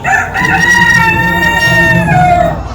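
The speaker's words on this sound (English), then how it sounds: "There's our rooster. Mean rooster." A rooster crows loudly and close by at a stockyard, one long drawn-out call filling the clip, with faint clucking from other fowl underneath.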